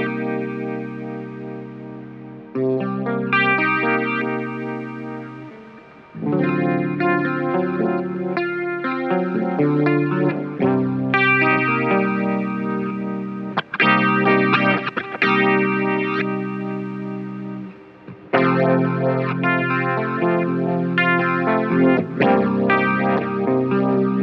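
Electric guitar played through the Fat Blob Guitar Suprême effects unit on a chorus preset with heavy, pronounced reverb, giving a thick, shimmering tone; loud chord phrases ring out continuously with short pauses between them, no voices.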